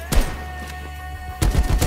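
Bursts of AK rifle fire in the survival game Rust, a short loud volley at the start, a lull, then a second heavier burst near the end, with a faint steady hum underneath.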